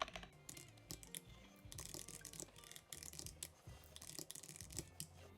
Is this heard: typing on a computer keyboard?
yes